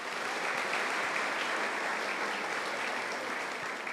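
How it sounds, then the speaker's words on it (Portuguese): A church congregation claps in a steady, even wash of applause during a Sunday evening Mass, moderately loud and continuous with no talking over it. "Palmas."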